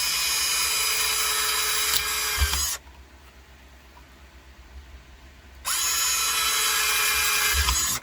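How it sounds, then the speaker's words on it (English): Power drill boring holes in a Kydex sheath, a loud high-pitched whine running for about three seconds, stopping for a quiet pause, then starting again at full speed until the end. "Now I use a different drill bit for these holes"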